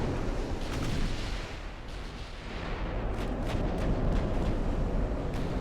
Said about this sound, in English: Slow down so we can start firing.